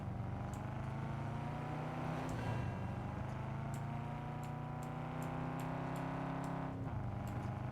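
Car driving in the video game Cyberpunk 2077, a steady engine drone with shifting pitch and a brief swell, heard continuously with no talk over it.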